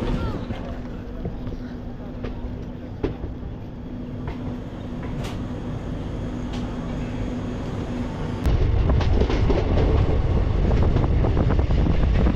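Tebhaga Express passenger train on the Kolkata to Balurghat route, pulling out of Murarai toward Pakur, gives a steady, loud rumble and rattle of moving carriages that grows noticeably heavier and rougher partway through.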